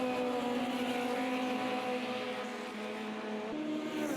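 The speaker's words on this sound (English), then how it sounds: "Isn't it great that hearing these cars singing and dancing around the circuit?" Historic Formula Junior race cars lap the Imola circuit, engines singing in a steady high-revving drone that shifts pitch with gear changes, loud and continuous.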